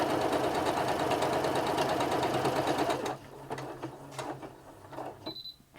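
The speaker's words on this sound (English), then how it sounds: "you can see it's automatically doing the buttonhole there" Singer Quantum Stylist 9960 sewing machine running steadily as it automatically stitches a buttonhole, a loud continuous mechanical whir for about three seconds, then slowing into softer intermittent clicks and taps, ending with a brief high electronic beep.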